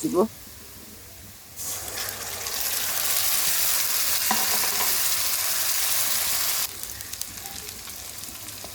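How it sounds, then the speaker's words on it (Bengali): Onions hit hot oil in a pan for a shing fish curry, bursting into a loud, steady sizzle that holds for several seconds before easing to a softer fry, with someone talking at the start. "পেঁয়াজ দিব তেল দিব পেঁয়াজটা ভাজা হয়ে গেলে বাটা পেঁয়াজ"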